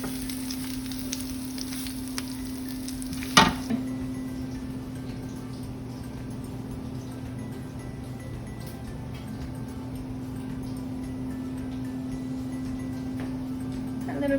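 Longaniza sausage and onions frying in a pan for mini street tacos, a steady close sizzle with a sharp clatter near the start and no talk.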